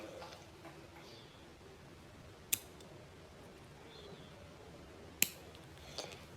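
Scissors snipping thread during needle lace (iğne oyası) work, heard as two sharp, isolated clicks a few seconds apart over a quiet room hush, with a faint third tick near the end and no talking.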